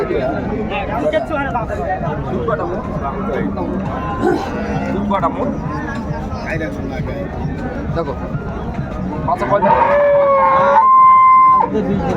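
Dairy cows and calves low and moo at a busy village cattle market in Raniganj, Dinajpur, with several moos rising over a steady babble of crowd talk, the loudest call near the end.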